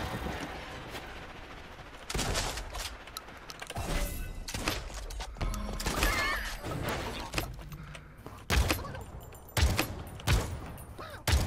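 Loud, dense bursts of gunfire and explosions mixed with a busy soundtrack in the video game Realm Royale, rapid shots clustering in the second half.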